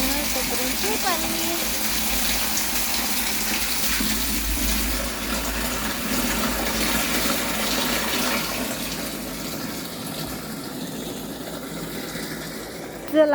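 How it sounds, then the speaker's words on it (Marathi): Water from the municipal supply gushes steadily at night during a period of water scarcity, a continuous loud rush that swells midway and fades slightly near the end, with a voice speaking faintly over it. "रात्रीच्या वेळेला पाणी आलंय"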